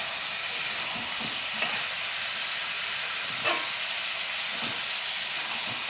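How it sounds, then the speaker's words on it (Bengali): Food fries in oil with turmeric, giving a constant loud hiss from the pan, with a few soft stirring knocks at uneven intervals. "হলুদ দিয়ে একটু নাড়িয়ে নিলাম।"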